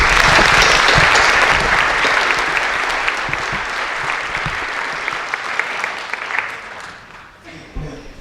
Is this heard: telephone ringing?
no